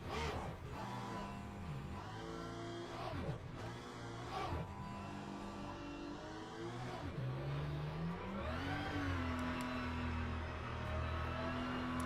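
A Porsche race car in a Le Mans racing video game revs and accelerates steadily, engine tone climbing and shifting through gears, loud and close for the whole stretch with no talking.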